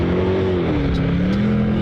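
Australian V8 Superboat racing engine roaring loud and steady, a sustained throaty drone with the pitch easing slightly downward as the boat runs, no voices.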